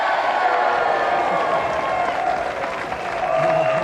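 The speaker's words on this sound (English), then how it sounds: "Another round of applause for our winner and our television Christmas prize." Game-generated studio audience applause from the Amiga snooker game Jimmy White's Whirlwind Snooker, a steady dense wash of clapping and crowd noise at full level throughout, dipping slightly before swelling again.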